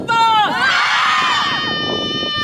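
A group screams together on command during a team-building warm-up in Langkawi, one loud sustained shout that rises sharply and then holds before fading.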